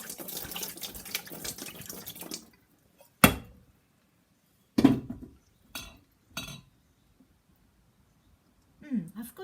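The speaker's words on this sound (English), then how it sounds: "So I've got a lot of bottles to clean" Glass bottles are washed at a sink, with running tap water early on, then several sharp knocks and clinks of glass against the basin, separated by quiet pauses.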